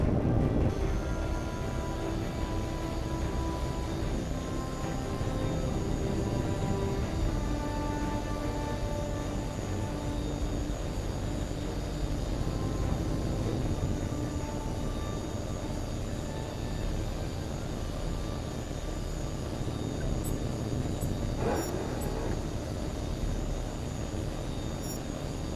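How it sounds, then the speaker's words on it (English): A jet fighter roars steadily through its takeoff in the video game Tom Clancy's H.A.W.X. 2, a dense, unbroken engine rumble holding at an even level for the whole stretch, with no voices over it. "You're clear for takeoff."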